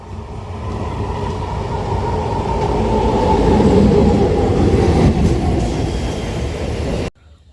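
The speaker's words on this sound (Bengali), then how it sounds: "দেখুন ডাঁসি স্টেশনে একটা ট্রেন ঢুকছে" A train rumbles into Dansi station loudly, its low roar and wheel noise building and holding steady before cutting off abruptly.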